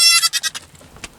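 A young goat bleats once, loud and close, a wavering pulsed cry lasting about half a second, followed by faint rustling and a softer trailing noise.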